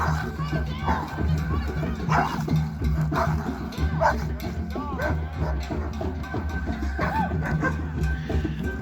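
Dogs bark and yip repeatedly at an outdoor Rainbow Gathering in Taos, New Mexico, sharp barks scattered through a noisy scene with children playing and people talking.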